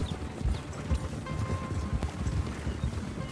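Horse hooves clip-clopping in RedM, the Red Dead multiplayer game, on a Texas-themed server: a steady run of close, rhythmic hoofbeats over a low ambient bed, with no talking.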